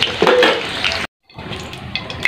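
Potato pieces frying in hot oil until browned, for a catla fish curry: a steady loud sizzling hiss that cuts out briefly, then resumes with scattered crackles.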